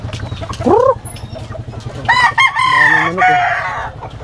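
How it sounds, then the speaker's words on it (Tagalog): Chickens cluck close by while a rooster crows, first a short call and then a longer full crow, over a low pulsing background hum. "Daming manok eh."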